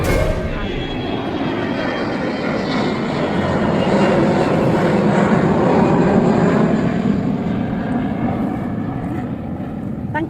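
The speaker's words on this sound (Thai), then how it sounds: "เครื่องบินบินกันหลายเที่ยวอีกแล้ว" An airplane flies overhead with a steady, loud engine roar that builds gently to a peak midway and then eases off slightly, continuous and broad with no pauses.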